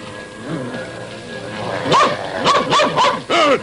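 A dog lets out a quick series of sharp, high yips and barks near the end, after quieter whining sounds.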